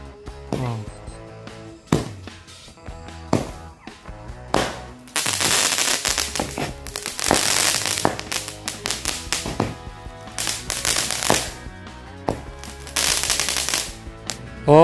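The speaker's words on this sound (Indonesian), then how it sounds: "Kita lihat hasilnya dari mercon kobra." A string of kobra firecrackers goes off at night in a rapid, irregular volley of sharp, loud cracks and pops, with a denser crackling burst midway and no talk.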